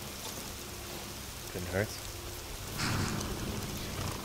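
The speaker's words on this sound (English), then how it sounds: "A little shelter from the rain, too." Steady rain pours down across an outdoor scene in the fantasy video game Avowed, a dense even hiss filling the whole stretch, while a voice speaks briefly over it.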